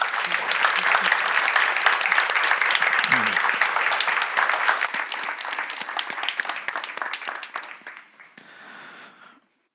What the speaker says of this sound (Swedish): en varm applåd till Ellen Mattsson och Anders Olsson och till Philip Sandén